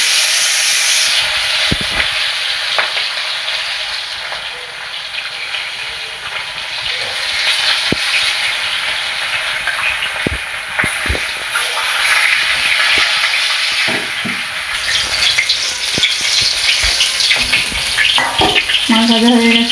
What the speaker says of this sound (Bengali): তেল গরম হয়ে গেছে,